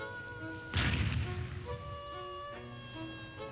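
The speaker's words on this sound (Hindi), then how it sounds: "संकेत के लिए गोली चलाओ।" A single loud boom of a gunshot fired as a signal cracks out once amid sustained musical tones in an animated film, then fades.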